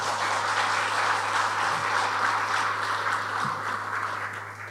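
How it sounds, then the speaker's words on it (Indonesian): Crowd applause at a political party gathering during a work visit in Brebes, a dense continuous wash of clapping from many people, steady and fairly loud, easing slightly toward the end, with a low electrical hum underneath. "Tepuk tangan dong."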